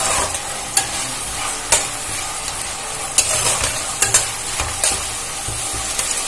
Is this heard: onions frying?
yes